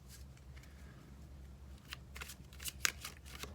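Oracle cards being shuffled by hand, soft close riffles and slaps building to sharper snapping flicks toward the end, quiet and without talk.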